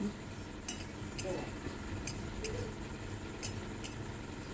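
Flattened rice (chira) is dry-roasted in a wok, with light rattling clinks and scraping taps as it is stirred, fairly faint and close over a steady background hum.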